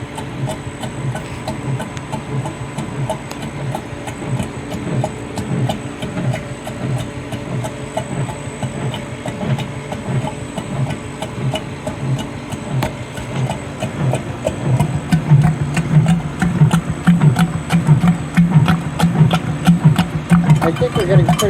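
An Emery Thompson CB-350 ice cream batch freezer runs with a steady, rhythmic mechanical churn and motor hum, close and constant throughout, with a voice talking over it.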